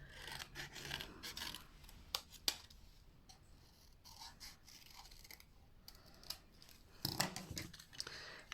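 Scissors trim autumn-themed paper cardstock up close, a run of crisp snips and slicing cuts with short pauses between them, quiet and alone with no talk.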